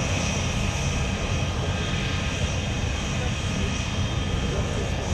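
An Avro Vulcan bomber, the oldest complete and only flying example, passes at the 2010 Coventry Air Show with a loud, continuous jet-engine roar.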